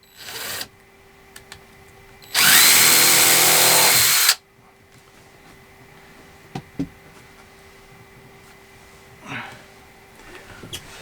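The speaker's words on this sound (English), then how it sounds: "I'm going to go ahead and drill a pilot hole." A single loud burst of power-drill whine lasting about two seconds as it drills a pilot hole in a door, close by, followed by quiet room tone with a few small knocks.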